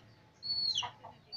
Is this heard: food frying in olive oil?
no